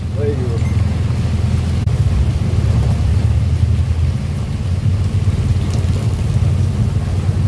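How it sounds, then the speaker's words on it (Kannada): Heavy rain on a Bangalore street around Hennur Cross, a loud continuous roar with a deep low rumble, steady throughout. "ಹೊಡಿತಿದೆ ನೋಡಿ ಮಳೆ."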